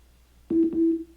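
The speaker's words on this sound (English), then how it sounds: "A little tone for hanging up." A Google Home smart speaker plays its short hang-up tone after ending a phone call, a single steady electronic beep that starts abruptly, holds for about half a second at close range and then fades, with no talking.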